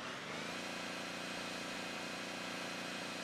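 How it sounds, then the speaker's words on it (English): A noisy car engine in the Notruf 112 video game drones steadily and loudly throughout, a constant synthetic rumble with no breaks. "Oh, that noisy engine."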